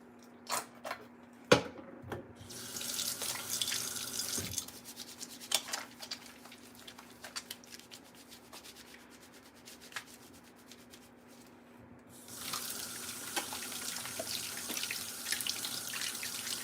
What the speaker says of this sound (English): I should wash my hands though.